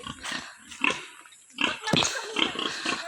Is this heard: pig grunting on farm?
yes